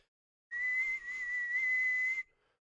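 Someone whistles a single sustained high note into a microphone for about two seconds, clean and steady with a slight waver, loud and close with no talking.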